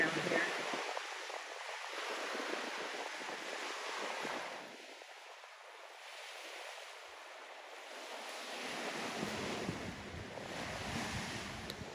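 Ocean waves wash onto a beach in slow surges, swelling and fading about every few seconds, with wind buffeting the microphone.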